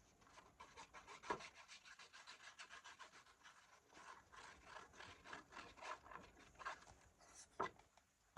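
Ink brayer rolled over a print block for a vintage irises journal print, making a rhythmic sticky suction rasp in repeated short strokes, faint and close with occasional louder taps.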